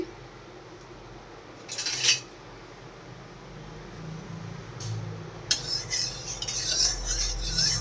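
A utensil stirs oil in a cooking pan, with a short scraping burst near two seconds and a longer, busier run of metallic scraping and clatter in the second half over a quiet room background.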